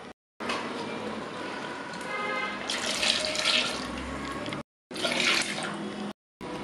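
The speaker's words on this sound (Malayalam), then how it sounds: "ഇനി നമുക്ക് ആ മിക്സി അഴിയ വെള്ളം ഒഴിച്ചു കൊടുക്കാവുന്നതാണ്" Water from rinsing a mixer jar pours into a fish curry in a steady, splashy stream, cut by brief silences, with no one speaking.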